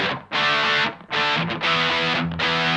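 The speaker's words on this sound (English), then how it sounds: "So as we push our gain control up now," Electric guitar played through a Mad Professor One high-gain distortion pedal with the gain turned up, loud saturated chords ringing in long sustained bursts with short gaps between them, no voice.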